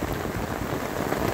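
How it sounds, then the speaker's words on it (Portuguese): Rainfall in the sertão of Bahia makes a brief, continuous wash of drops pattering on surfaces, even in loudness and without speech. "Tá chovendo."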